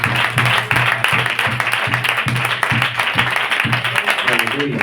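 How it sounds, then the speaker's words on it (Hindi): A church congregation claps in steady rhythmic unison, the beats evenly spaced and loud, while a voice carries on over the clapping and a low pulsing tone sits underneath. "खोल के तालियां।"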